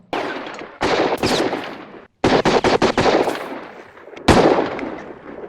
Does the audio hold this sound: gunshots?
yes